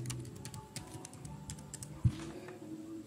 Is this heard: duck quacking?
no